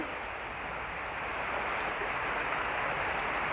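Heavy rain falls outside a home on a cloudy day, a steady, dense hiss that stays even and continuous throughout, with no voices over it.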